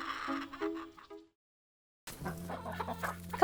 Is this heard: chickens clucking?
yes